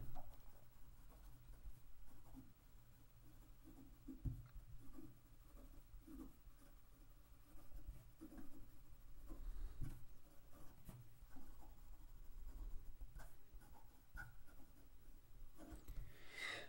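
A Montblanc Meisterstuck 149 fountain pen moves quickly across paper, leaving a soft, close scratching of nib strokes with tiny taps and pauses, quiet and steady with no talking.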